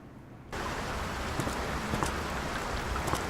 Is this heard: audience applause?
no